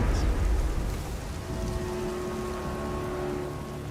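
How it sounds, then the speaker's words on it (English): Heavy rain hisses steadily through a stormy night in a game trailer, with a deep roll of thunder rumbling at the start and fading into a faint tonal drone beneath the downpour. "It was a dark and stormy night."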